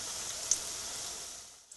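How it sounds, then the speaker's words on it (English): Stuffed paneer and potato bread roll frying in oil over a medium flame, giving a steady, soft hiss of sizzling that holds evenly and fades slightly at the end. "I'm going to place my first piece. And just allow this to cook on a medium flame till it gets brown color on both sides"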